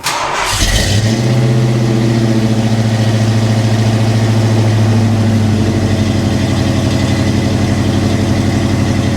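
A Land Rover LR4 engine, fitted with a new exhaust, catches and settles into a loud, deep, throaty exhaust rumble that holds steady and close.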